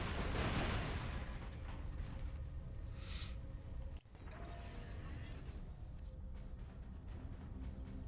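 Rocket launcher fire and explosions in the video game Metal Arms: a dense, rumbling barrage of blasts and booms, heaviest at the start, with a sharp crack midway and continuous low roaring throughout.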